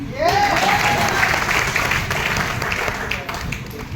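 A crowd at a large gathering in Robertsganj claps together in a steady burst, with a voice carrying over the applause near the start.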